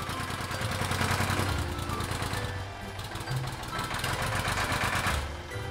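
Tractor engine running as the tractor approaches the plough. A steady mechanical chugging drone carries on throughout at moderate loudness, with some rises and falls in intensity.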